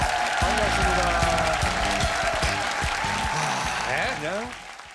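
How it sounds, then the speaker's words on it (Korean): Applause from a TV studio audience, joined by serving and reserve soldiers of the Army Hwarang unit, fills the room loudly and steadily with talk and music over it, then thins toward the end. "박수 보내주시죠."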